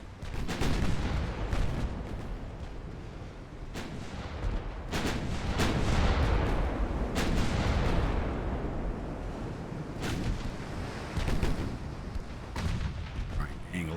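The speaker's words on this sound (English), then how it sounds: "We continue to take them down at long-range fire" Heavy naval guns boom repeatedly in Ultimate Admiral: Dreadnoughts, a sequence of loud, irregular blasts and rumbling salvos over constant sea and engine noise, with someone talking throughout.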